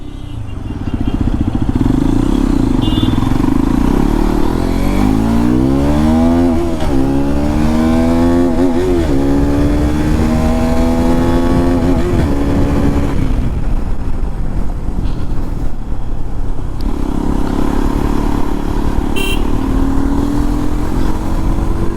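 Hero XPulse 210 motorcycle on a test ride, its engine revving up through rising gear sweeps, easing off, then pulling again, loud and close with wind buffeting throughout.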